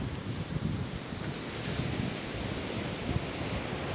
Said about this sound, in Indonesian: Ombaknya bagus sekali teman-teman ya di daerah sini